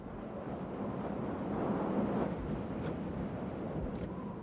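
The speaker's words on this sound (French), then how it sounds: "Quand des vents soufflent en tempête, la neige se transforme en blizzard." Storm-force wind blows snow into a blizzard, a steady, dense roaring rush that swells slightly midway and carries on without any voices.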